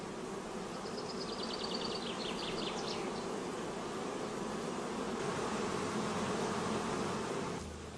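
Honey bees from a queenless colony hum around frames of sealed brood and honey stores, a dense, steady buzzing swarm sound that stays close and continuous throughout, with no voices.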